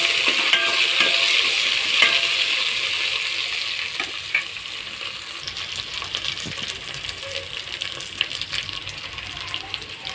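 Mint and coriander leaves frying in a pan for bagara rice, with a bright sizzle and intermittent stirring clatter from a spoon against the pan, loud at first then settling to a softer hiss.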